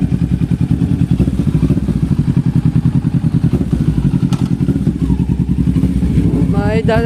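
A Kawasaki 650 motorcycle engine runs close and loud with a rapid, even thumping pulse throughout, and a voice talks over it near the end.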